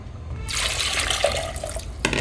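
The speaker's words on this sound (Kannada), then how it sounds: "ಸ್ವಲ್ಪ ನೀರು ಹಾಕ್ತೇನೆ" Water pours steadily into a metal pressure cooker holding jackfruit seeds for a couple of seconds, a splashing, bright rush that briefly stops and resumes, with no talking.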